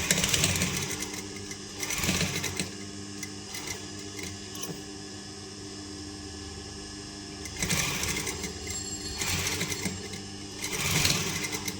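A sewing machine stitches piping onto netted fabric in bursts of fast, close mechanical whirring, pausing between runs with a steady background hum.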